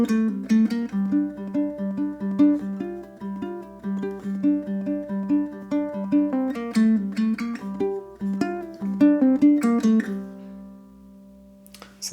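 Ukulele picking a single-note etude theme built on hammer-ons and pull-offs, moving between the fourth and third strings in a steady, bright melodic line that plays alone and then rings out in a held final note.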